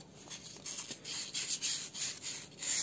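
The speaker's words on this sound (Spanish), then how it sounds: "proceden a lijar toda esta punta del sensor de oxígeno" Repeated rubbing and scratching strokes of fine sandpaper wet sanding the tip of a car oxygen sensor, quiet and close, in an uneven back-and-forth rhythm.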